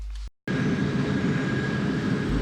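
Jet engine of a heavy F-100D Super Sabre in War Thunder simulator: a steady, loud turbine roar with a faint high whine, following a brief dropout at the start.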